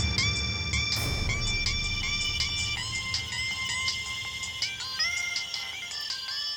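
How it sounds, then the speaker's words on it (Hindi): A phone ringtone plays a repeated electronic melody of bright tonal notes throughout, steady and fairly loud, with no talking. "ये किस बुड़बक का फोन टुनटुना रहा रे?"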